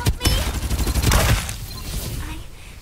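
Rapid bursts of gunfire from the battle royale game Farlight 84, loud and dense at first, then tapering into scattered shots over in-game voice lines.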